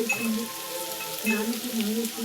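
Chicken and beans frying in a pan, a steady close hiss and sizzle of cooking food with faint clinks, and a voice speaking softly over it.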